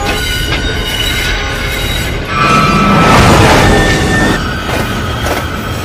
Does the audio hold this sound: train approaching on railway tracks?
yes